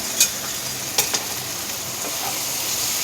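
Sliced onions fry in a pan for a rohu fish curry, an even, constant sizzle with a few short clinks of stirring.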